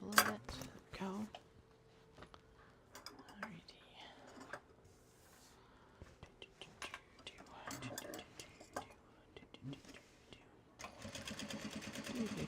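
A sewing machine runs in short, quiet bursts of ticking stitches while making a traveler sling, with soft, low speech between the runs.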